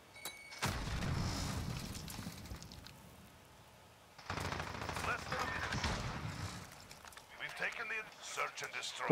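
MP5 submachine gun fire in Modern Warfare Search and Destroy comes in two loud bursts of rapid shots under a player's talk, then a quieter stretch with scattered distant shots.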